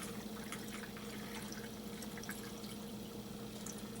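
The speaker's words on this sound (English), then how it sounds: "you're going to want to add some water" Water is poured into a Ninja Pro N600 blender jar for a smoothie. It makes a soft, steady, continuous stream that stays faint and even throughout.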